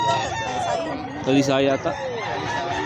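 A young rooster crows once amid a busy pet market in Bocaue, its call rising briefly over someone talking loudly and continuously nearby.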